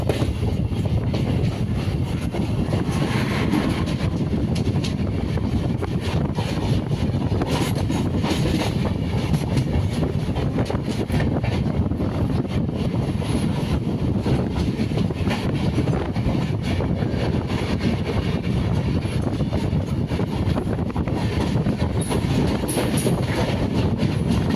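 A local UME passenger train running between Avadi and Vellore Cantonment makes a loud, continuous rumble heard from on board, with rhythmic clickety-clack of wheels on track joints and gusts of wind buffeting the microphone.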